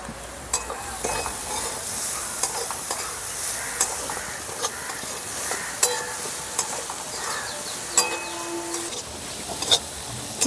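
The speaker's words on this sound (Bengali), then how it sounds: "দু মিনিটের মতন ভাজা ভাজা করে নেব" Chili, cumin, coriander and turmeric powders with salt fry in a pan for a cauliflower paratha filling, under a constant sizzle. A spatula clinks and scrapes at intervals, close and without speech.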